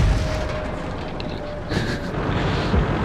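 A tank cannon fires in the World of Tanks video game on a snowy map, a heavy booming blast followed by a rumbling roar that fills the whole stretch at close, loud range.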